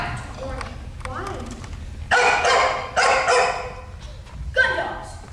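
Gun dogs barking, with a few loud bursts of barking standing out over a busy background of voices and other noise.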